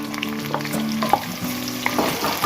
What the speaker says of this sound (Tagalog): So, ayan, nagigisa natin ang bawang.